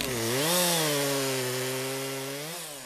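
A saw cutting oak logs at a sawmill, its motor holding a steady droning whine that dips and rises slightly in pitch, loud and close with no talking.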